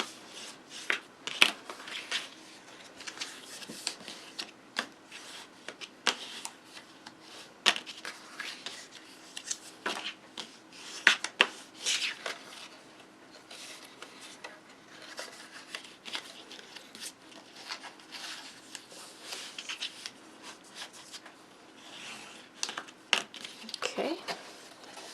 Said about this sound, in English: let's fold and burnish those fold lines